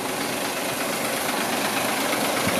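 A brand-new Hino Victor 500 ten-wheel cement mixer truck idles close by with a steady, dense diesel rumble and hiss, unbroken throughout.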